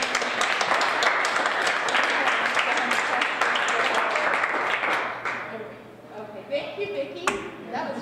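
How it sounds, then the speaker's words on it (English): Broad, dense clapping from a college audience fills the first five seconds, then thins out and fades into scattered claps and quiet room noise. "so a round of applause"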